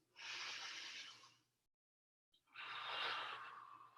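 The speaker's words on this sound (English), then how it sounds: "Trying to keep up with that nose breathing." Two long, deep breaths drawn through the nose during a stretching class, each a broad airy rush with a short silent pause between them, close and fairly quiet with no talking.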